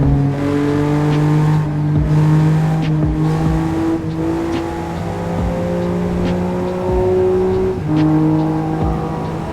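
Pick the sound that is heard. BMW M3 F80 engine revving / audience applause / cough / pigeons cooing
BMW M3 F80 engine revving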